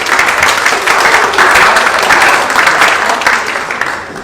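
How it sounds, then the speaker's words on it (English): Audience applause at a chamber of commerce luncheon welcoming a mayor and councilmember, loud, full clapping from a room of people that swells and then tapers slightly toward the end. "If we could give them a round of applause."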